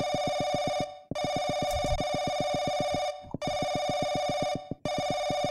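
A phone rings in the video game Paranoiac in steady electronic bursts, three long rings separated by short pauses, loud and close.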